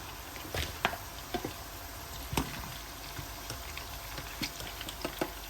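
Chicken popcorn pieces fry in oil in a pan, a steady low bubbling hiss with scattered soft pops, fairly quiet and without voices.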